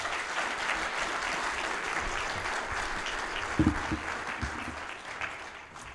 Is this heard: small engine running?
no